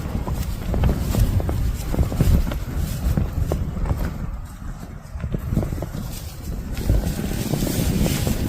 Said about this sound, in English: I know it's windy